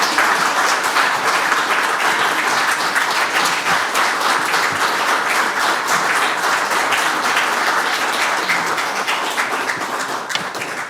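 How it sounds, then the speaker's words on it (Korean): An audience applauds in welcome at the founding general assembly and chairman's inauguration of the Korean Parliamentary Association, a dense, steady clapping that runs without a break and eases slightly near the end. "여러분 큰 박수로 환영해 주시면 감사하겠습니다."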